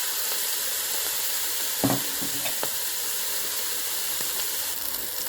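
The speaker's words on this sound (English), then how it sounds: "So we're just going to let this meat sear for about 5 minutes and get browned on all sides." Stew meat sears and sizzles in olive oil inside a Ninja Speedi, a steady close hiss of frying with a few brief stirring clatters partway through.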